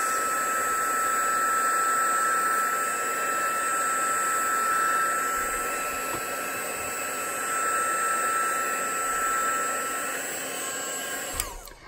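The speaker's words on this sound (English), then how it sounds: "I'm going to give it a quick dry because I haven't got the time or the patience." A dryer blows a steady, continuous whooshing whir as it dries paint on a crafted Halloween tag. The sound is close and loud, holds even throughout and has no talking over it.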